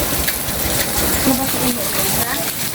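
Heavy rain pours down in a narrow alley, a steady, dense hiss that fills the whole stretch without pause.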